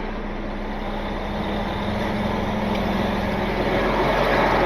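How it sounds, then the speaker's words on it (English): Tow truck engine being idled up, a steady loud diesel rumble that rises slightly over a few seconds, heard close with no talking. "Now I will idle it up."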